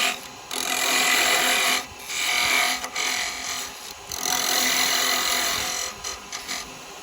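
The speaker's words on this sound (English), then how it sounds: "I'm going to use the parting tool at first to get down to the size I want." A parting tool bites into wood turning on a lathe, producing a loud, harsh scraping hiss in long sustained cuts broken by short pauses as the tool is withdrawn.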